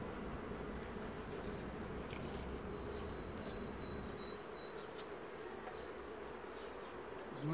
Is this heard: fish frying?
no